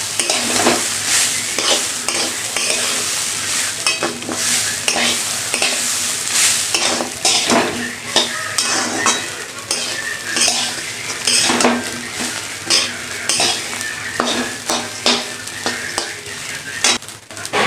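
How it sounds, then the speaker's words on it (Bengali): Rice and lentils stir-fried in a pan for khichuri, with steady scraping and clinking of a utensil against the pan over a soft sizzle, close and continuous throughout. "চাল ডাল ভাজা হয়ে গেছে"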